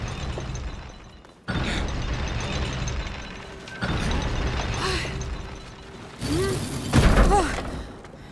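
A heavy lever mechanism in A Plague Tale: Innocence gives way with creaking, ratcheting and grinding, in several loud bursts separated by brief lulls, with a final thud near the end.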